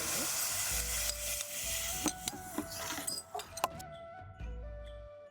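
Tempering oil in a pan sizzling as mustard seeds, cumin, red chili pieces, asafoetida and curry leaves go in, a hissing spatter with sharp pops and crackles of bursting seeds, close and loud.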